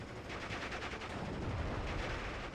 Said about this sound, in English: Another shot is fired, loses a Panzer IV to a bazooka.